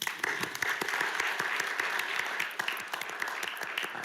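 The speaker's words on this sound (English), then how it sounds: "Let's give them a round of applause." People at a Little Rock city board meeting clap for AmeriCorps members with distinct individual claps that are moderately loud, slightly thinning toward the end.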